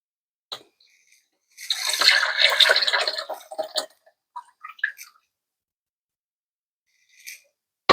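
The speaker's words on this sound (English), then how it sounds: "So you're going to pour that into your stew." Protein broth poured into a pot of jollof rice stew, a brief liquid rush and gurgle lasting about two seconds, followed by a few scattered drips and small splashes, then near silence.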